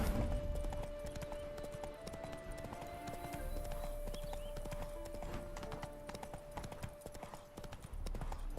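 Horse hooves clip-clop in The Witcher 3 video game, a quiet rhythmic trot with a faint whinny, set under a steady sustained musical tone.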